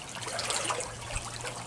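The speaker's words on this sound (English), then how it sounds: "Now, the water is actually going into the pond." Water pours into a pond past a check valve, a close, busy trickling and splashing that runs continuously with small surges.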